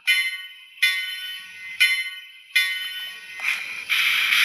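A model train DCC sound decoder rings its bell in bright metallic strikes, evenly spaced about once a second, clear and alone, with a soft hiss rising near the end.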